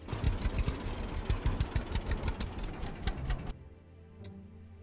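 In the farming video game Farmer's Dynasty, a tractor engine idles with a steady ticking, knocking rumble that cuts off abruptly near the end, leaving faint quiet.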